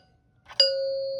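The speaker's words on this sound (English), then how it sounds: "That means play the ding dong bell sound." A Heath Zenith wired door chime sounds a single clear two-tone ding-dong, preceded by a faint click of the button, with the second tone ringing on and slowly decaying.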